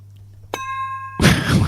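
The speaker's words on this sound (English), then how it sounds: "I thought that was going to be a big gong. It's sort of like a gong." A gong-like metallic sound effect rings with sustained overtones, followed by a loud burst of broadband noise, fairly close and prominent.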